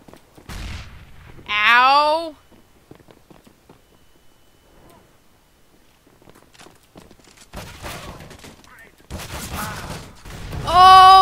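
Gunfire in the CS:GO shooter game: a few sharp reports separated by quiet stretches, the loudest burst landing near the end, with brief bits of other game noise in between.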